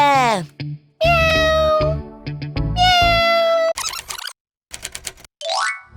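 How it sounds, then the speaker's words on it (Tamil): A cartoon kitten gives two drawn-out, high meows, followed by quick clicky typewriter-like and springy boing sound effects and a short rising squeak, crisp and close. "இங்க பாரு பூனைக்குட்டி இங்க இங்க"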